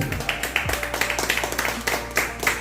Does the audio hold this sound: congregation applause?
yes